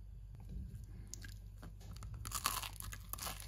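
Crusty homemade bread being bitten and chewed gives dry, crackling crunches close to the microphone, a few quiet bites early and then a louder burst of crunching near the end, with no talking.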